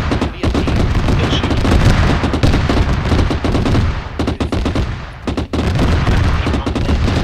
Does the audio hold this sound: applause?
no